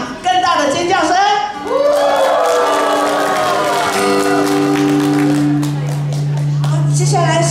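Audience applause and cheering at a winter folk-music concert fill the hall after a teachers' ensemble plays, dense clapping continuing throughout while sustained instrumental tones and a voice ring out over the crowd.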